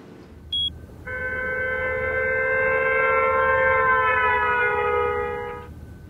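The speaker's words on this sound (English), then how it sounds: "the pitch of the car's horn makes a quick change as it passes us" A sustained car horn blares for several seconds, its chord-like tone dropping in pitch partway through as it passes, then cutting off.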